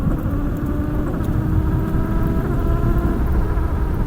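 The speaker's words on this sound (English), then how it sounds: "I'm full throttle right now." A 72-volt Coswheel R19 electric bike held at full throttle gives off a steady, close motor buzz and hum that stays even for the whole stretch, with road rumble underneath.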